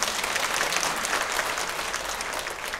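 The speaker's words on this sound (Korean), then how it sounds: "박수로 청해주십니다" A church congregation at a Sunday afternoon worship service claps to welcome a performer, a dense, steady round of applause that fades slightly toward the end.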